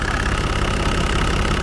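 A 1995 Toyota Land Cruiser 80 Series with a 1HD-FT 4.2-litre six-cylinder turbo diesel idles loudly and close up, a steady dense rumble with a slightly knocking diesel clatter and no break.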